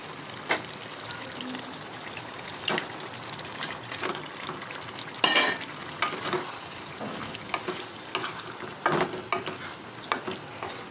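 Shol fish fry in tomato masala in a pan, a moderate sizzle punctuated by irregular stirring scrapes and clanks, with no speech.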